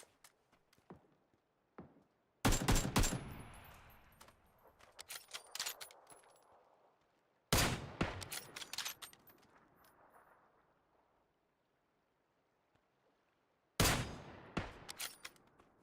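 Three loud, dense bursts of gunfire in a video game shootout, each a sharp volley of rapid shots that trails into a fading tail, with quiet gaps and a few faint clicks and footsteps between them.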